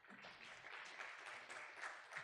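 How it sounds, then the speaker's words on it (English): Faint, even applause from an audience at a Bank of Tanzania cash-lite economy event, clapping for the MC over a couple of seconds. "A round of applause for Beatrice"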